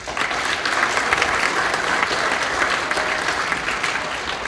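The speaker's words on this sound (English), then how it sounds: "So she deserves a round of applause." An audience at a school awards night applauds, steady sustained clapping from a crowd filling the room for several seconds.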